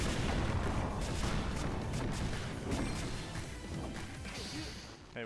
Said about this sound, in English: Hey, why am I exploding?